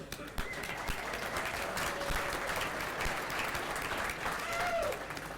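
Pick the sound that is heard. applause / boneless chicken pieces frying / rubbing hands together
applause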